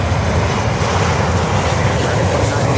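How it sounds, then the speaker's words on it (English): Loud, steady engine roar from a Lufthansa Boeing 747 arriving at Miami, a broad continuous rumble close by with no breaks. Speech may be faintly mixed in. "Lufthansa 747 arriving at 3:41."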